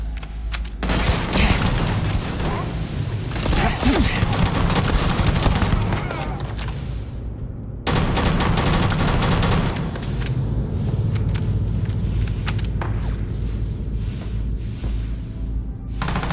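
Rapid gunfire crackles through a firefight in the Starfield video game, with dense volleys of shots and bursts lasting throughout and a brief break midway.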